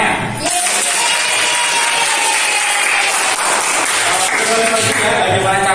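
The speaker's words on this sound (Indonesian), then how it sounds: "Oke, beri aplaus buat kelompok semuanya." Sustained applause and cheering from an audience at a school group coaching session, dense and loud throughout, with voices mixed into the clapping.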